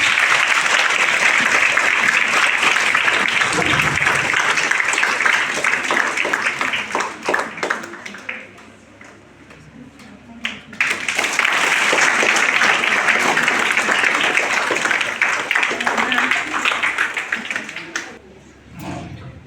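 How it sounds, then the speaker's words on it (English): A room of students applauds in a long burst of clapping at a school Girls Day event, pauses while someone speaks briefly, then breaks into another extended round. "Please, students, give a big round of applause."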